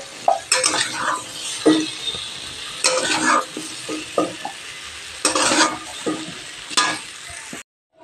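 Fried pumpkin pieces in oil in a kadai are stirred and scooped out with a metal spatula: several separate bursts of scraping and clinking over a low sizzle, with pauses between, then a sudden cut to silence.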